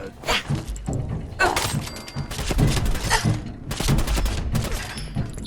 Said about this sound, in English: Stop with your stupid submachine.